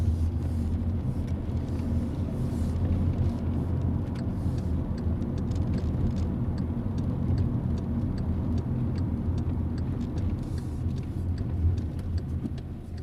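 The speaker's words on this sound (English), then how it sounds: "Okay, we're turning right here, Tony." Car driving during a driving lesson approaching a right turn at an emerging junction, a steady low interior rumble of engine and road noise with a faint ticking indicator throughout.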